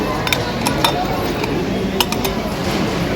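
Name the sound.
pots and utensils clinking in a shop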